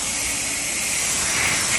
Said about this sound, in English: Let's spray some water on them and see how they work.